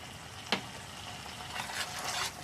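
Corned beef sautés in a pan, a soft close sizzle with occasional stirring scrapes and a small pop, faint and steady with no talking.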